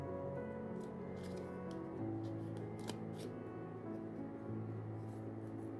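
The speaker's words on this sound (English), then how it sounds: "impressed with these scissors. They are very sharp." Sharp fussy-cutting scissors cut paper in small, quick, crisp snips, close up over a steady background hum, with no talking.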